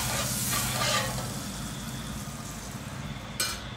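Corn sandwich sizzling in butter in a hot pan, a steady close frying crackle throughout with a brief sharper burst near the end.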